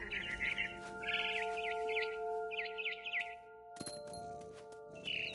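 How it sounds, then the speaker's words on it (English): A barn swallow in What Remains of Edith Finch gives bursts of quick, bright chirps in short repeated phrases, clear and fairly close, with ringing tones and soft ambience beneath. "It was a barn swallow going back to her nest."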